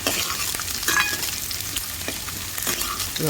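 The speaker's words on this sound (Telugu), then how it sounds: "కొన్ని ఆవాలు కొన్ని జీలకర్ర కొన్ని మెంతులు వేసుకుంటే బాగుంటుందండి" Mustard seeds, cumin and fenugreek sizzle and crackle in hot oil while being stirred for an Andhra okra tamarind stew, a steady close frying hiss with scattered pops and spoon scrapes throughout.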